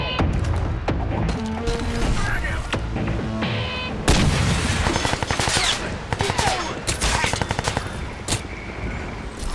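Rapid bursts of automatic gunfire and booming impacts in the Crysis 3 video game, close and loud, with faint talk underneath.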